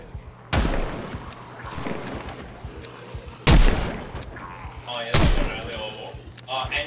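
Pistol shots in the zombie survival game Project Zomboid: three sharp, loud reports a few seconds apart, with people talking in between.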